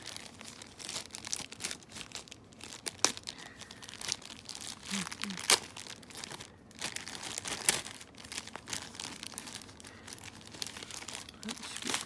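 A plastic package of Yu-Gi-Oh HeroClix starter stat cards and dice is unwrapped, with close, irregular crinkling and tearing bursts of plastic and quiet handling sounds between them.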